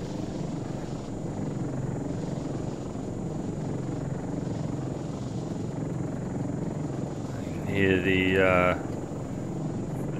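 The MQ-12 Falcon drone's rotor in ArmA 3 gives a continuous whirring hum, with a brief warbling electronic tone near the end and a voice speaking over it.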